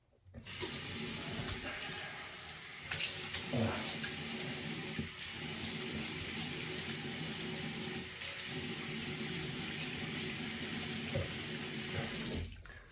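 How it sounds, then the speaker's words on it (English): Cold water gushes continuously from a sink tap for rinsing the head before a shave, a loud, steady splashing rush with slight shifts as the flow is disturbed, lasting nearly the whole time with no talking. "I ducked just beneath the camera and just ran some cold water through my head"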